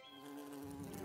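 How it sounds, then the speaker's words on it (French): A cartoon bee buzzes in one brief, steady, fairly loud drone with a clear pitched hum. "Va-t'en, l'abeille"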